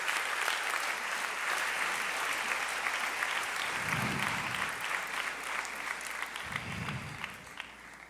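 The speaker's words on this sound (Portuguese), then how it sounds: "Aplaude ele é digno" A church congregation applauds together in sustained, dense clapping that fills the room steadily for several seconds, with a couple of low thumps in the background.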